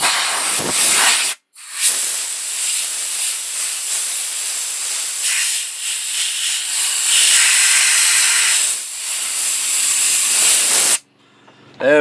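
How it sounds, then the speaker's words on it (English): Compressed air from an air compressor blows out a barley mill in a loud, close, continuous hiss that lasts several seconds, breaking off briefly once before resuming and stopping near the end. "what I'll do is just take the air compressor and"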